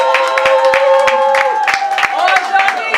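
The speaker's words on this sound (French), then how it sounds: "Acclame très fort pour le Seigneur" Church congregation clapping and cheering at a celebration service for a pastor's anniversary and the church's tenth year, with dense rhythmic handclaps under loud singing voices and music throughout.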